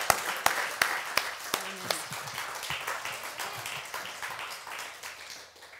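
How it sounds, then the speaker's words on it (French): A church congregation applauding at a Pentecost service: a few sharp, loud early claps, then a sustained, slowly fading patter of clapping, with faint voices underneath. "peut donner une bonne main d'applaudissement à notre Dieu"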